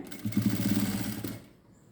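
A sewing machine runs a short stitching burst on a chudidar neckline fitted with canvas interlining, a steady close mechanical whir that stops after about a second and a half.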